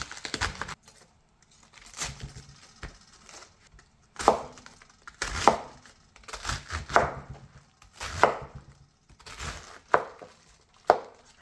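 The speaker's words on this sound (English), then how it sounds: "we're going to cut up our veggies" Knife chopping cabbage and potatoes on a cutting board while ribs brown, in a string of sharp, close cuts that come in short irregular bursts separated by brief pauses.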